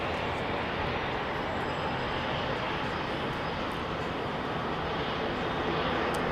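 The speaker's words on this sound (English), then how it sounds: "Kathy Williams, EK42, should be taxiing for departure." Jet aircraft on the ground at London Heathrow Airport, taxiing for departure, giving a steady, broad engine roar that stays constant and fairly close throughout with no talk over it.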